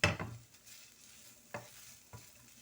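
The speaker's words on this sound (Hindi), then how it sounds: "अब ये प्याज के साथ ही थोड़ी सी भूनती हूँ इसको" Shredded boiled chicken fries with onions in a pan, a soft sizzle under a sharp spatula scrape at the start and two more stirring strokes later, close and fairly quiet.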